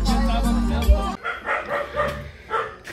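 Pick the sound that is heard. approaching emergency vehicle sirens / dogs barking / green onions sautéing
dogs barking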